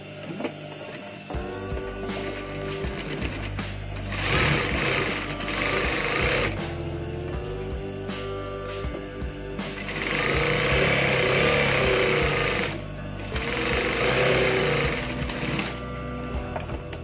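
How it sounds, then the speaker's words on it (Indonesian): A sewing machine stitches a shirt sleeve, whirring steadily and loudly in several bursts, speeding up and slowing down between runs with no talking over it. "Jadi langkah pertama kita jahit dulu ya, kita gabungkan dulu teman-teman untuk bagian lengannya ya."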